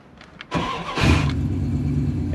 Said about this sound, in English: And start the truck up.